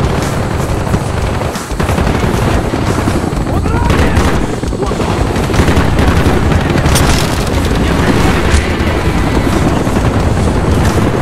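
A helicopter thunders through a Call of Duty: Black Ops battle, its rotor roar blended with constant machine-gun fire and explosions in a dense, loud wall of combat noise, with shouted voices mixed in.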